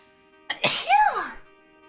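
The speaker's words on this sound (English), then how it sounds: "I'm gonna sneeze." One sneeze comes close and clear, with a quick inhaled buildup and then a sharp burst that trails off into a voiced tail over a faint steady hum.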